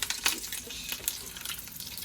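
Salmon croquettes coated in pork rind panko fry in hot animal fat, giving a close, steady crackling sizzle with scattered sharp pops.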